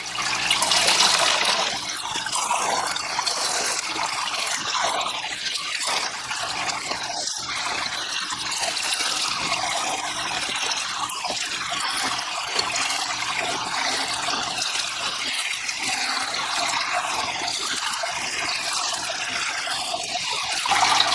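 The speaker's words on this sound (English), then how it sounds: "Open up the suction so I can get all the nasty bits out." A gravel vacuum siphons water and debris out of a home fish tank, producing a continuous rushing, gurgling flow of water with bubbly splashes, steady and close throughout without any talking.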